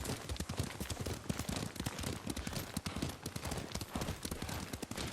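Galloping horse hooves in the Ghost of Tsushima video game pound out a fast, continuous clip-clop rhythm, loud and close throughout, with no talk over it.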